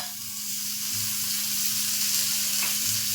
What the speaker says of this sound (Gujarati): તેના પર આ રીતે હું હોમમેડ બટર લગાવી લઈશ.